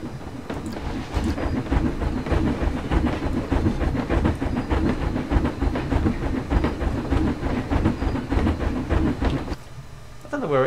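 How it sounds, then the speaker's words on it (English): A train runs through a Planet Coaster theme park in the game, giving a steady, fairly loud rumbling clatter with quick rhythmic clicks for about nine seconds before it briefly fades. "Oh, there's a train."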